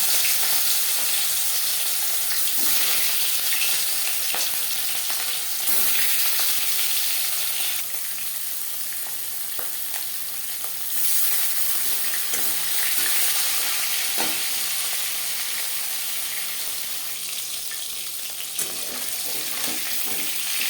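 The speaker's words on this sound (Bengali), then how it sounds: "এবার দিয়ে দেবো ম্যারিনেট করে রাখা মাছ" Marinated rohu fish fries in about four spoons of hot refined oil, a loud, dense, continuous sizzle close by, with faint scrapes and small shifts in intensity over its length and no speech.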